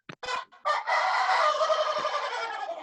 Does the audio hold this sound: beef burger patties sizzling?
no